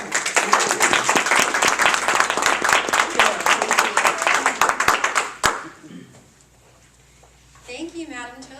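Loud, sustained clapping from an audience at a Toastmasters meeting welcomes a speaker to the lectern; it fades out after about five seconds into near quiet, and a voice then begins speaking.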